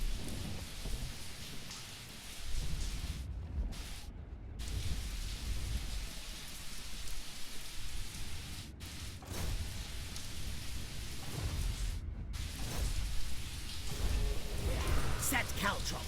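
Steady rain falls outside with low rumbles of thunder rolling through, a continuous moderate wash of rainfall heard from indoors.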